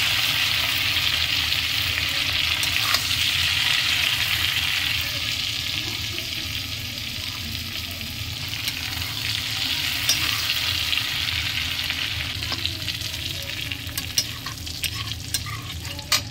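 Shrimp frying in oil in a kadai, a steady close sizzle with occasional stirring scrapes throughout, no talking.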